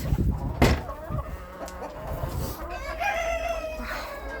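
Chickens in a snowy farmyard, including bearded hens, cluck and call close by, with a short crow-like burst early on and softer clucking afterward; someone speaks quietly among them.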